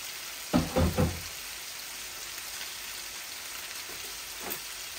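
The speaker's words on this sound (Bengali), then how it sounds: "এই যে আমি মাছগুলা এটার মধ্যে ঢেলে দিচ্ছি, এই যে দুটোটা এই ঢেলে দিলাম।" Tilapia pieces are dropped into hot oil in a pan, giving a few sharp splashing bursts at the start and then a steady, even sizzle of frying that carries on alone.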